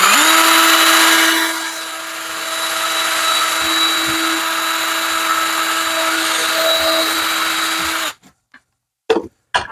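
A power drill bores a hole all the way through a block of wood for a corn-holding squirrel feeder, giving a loud, steady motor whine for about eight seconds before it cuts off, followed by a few brief clicks.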